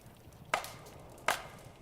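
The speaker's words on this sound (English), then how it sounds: "I think I gotta keep chopping." Two crisp axe chops splitting firewood in the video game Chillin By The Fire, spaced under a second apart, sharp and close against a quiet background.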